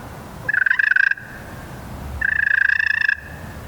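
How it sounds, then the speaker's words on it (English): Two rolling purrs scratched out on a slate turkey call, each about a second long with a fluttering, trilling texture, separated by a brief pause. "That's a purr. It's a pretty good purr right there."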